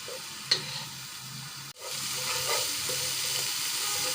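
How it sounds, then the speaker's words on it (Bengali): Masala stir-fried in a pan for aloo ghati, a traditional North Bengal potato dish, with steady close sizzling and frying hiss, scraping stirs, and a brief clack near the middle. "এভাবে বেশি করে কষিয়ে নিলে আলু ঘাঁটি বেশ মজাই লাগে।"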